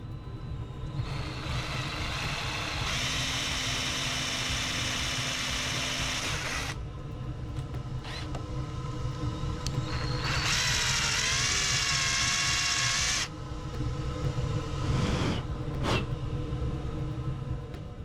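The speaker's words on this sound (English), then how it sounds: "When it's safe to do so, just mark it down, begin the drilling." A small power drill whirs in bursts, pitch rising and falling as it bites into the metal of a Duratec/MZR engine piston crown, with pauses between runs.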